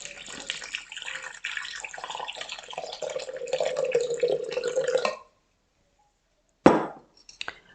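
Water is poured steadily into a pot of carrot and brie fettuccine for about five seconds, its splash deepening as it fills. A short clink follows after a pause.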